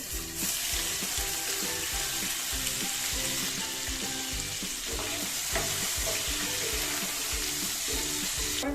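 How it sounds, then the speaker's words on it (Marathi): Cashews roast in oil in a pan for a dhaba-style mixed vegetable dish, a steady close sizzle with repeated scraping strokes of a spatula and a faint background hum, no voices. "या रंगापर्यंत आपल्याला काजू छान भाजून घ्यायचे"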